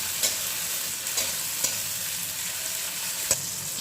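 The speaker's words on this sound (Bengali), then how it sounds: "এবার আমি টমেটোগুলো অ্যাড করে দিচ্ছি, দিয়ে ভালো করে আমি এটাকে ভাজবো।" Tomatoes and spices fry in a pan for masala chicken, a constant close sizzle broken by a few sharp clicks of a spatula stirring against the pan.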